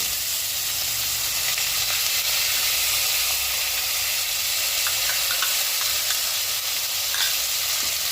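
Sliced onions hit hot oil already seasoned with cumin, dried red chilli and bay leaves for a Bengali fish curry, giving a loud, steady, close sizzle and hiss that holds evenly throughout, with no talk.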